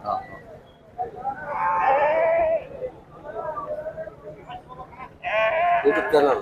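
A female lamb bleats in a couple of drawn-out, wavering cries, close and fairly loud, with people talking in the background at a sheep market in Kudligi.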